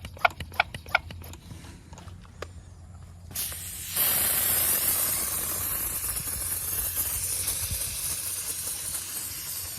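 A sprayer mists a chili and garlic mixture onto lime plants: first a few sharp clicks and ticks, then a steady close hiss of spray for the remaining seconds.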